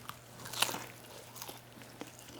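A crunchy bite into a fried smash burger taco, one sharp crisp crunch close up followed by a few softer chewing crackles, quiet and with no talk.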